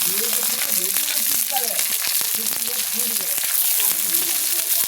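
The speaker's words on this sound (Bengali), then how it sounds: "টমেটোটা পেঁয়াজের সঙ্গে খুব ভালো করে ভেজে নেব" Chopped tomatoes frying in a pan with onions already browned, a steady close sizzle running the whole time with occasional spatula scrapes and stirring clicks; a voice speaks faintly underneath.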